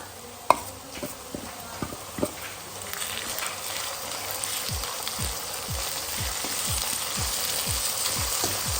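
Chopped tomatoes frying in a pan with onion and garlic, a steady soft sizzle throughout with a few sharp clicks early on, close and continuous with no talking.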